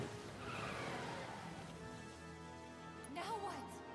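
In Final Fantasy VII Remake, the mechanical Crab Warden boss revs its engine, a steady whining motor drone with a sharp squealing screech near the end, while a player talks over the game sound.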